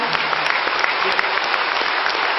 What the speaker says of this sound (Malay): kita bagi tepukan dulu